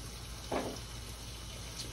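Tap water runs into a pot of salted water for boiling potatoes, a soft, steady hiss-like flow with a brief splash, faint and continuous.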